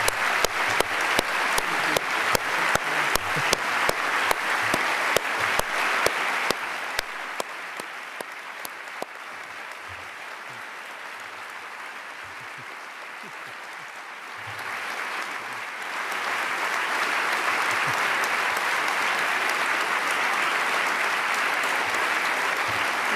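An audience at a literary conversation event applauds at length, starting with rhythmic synchronized clapping that fades into a lighter patter, then swelling again into full steady applause.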